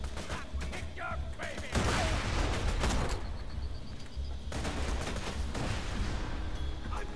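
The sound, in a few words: grenade explosions and gunfire in video game Borderlands 2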